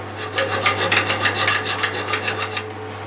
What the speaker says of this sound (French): Je vais finir à la scie.